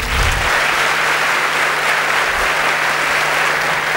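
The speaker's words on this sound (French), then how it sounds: "Des applaudissements, s'il vous plaît," Sustained applause from an audience honoring a military band at a civic back-to-school ceremony, steady dense clapping loud and close throughout with a faint low hum beneath.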